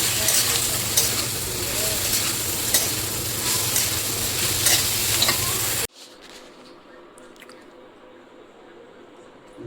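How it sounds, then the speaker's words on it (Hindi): Okra sizzles and is stirred in a hot pan for several seconds, a loud, close, continuous frying hiss with scraping stirs; it cuts off abruptly, leaving only faint background sound. "और मैं इसको थोड़ा फ्राई कर लेती हूँ।"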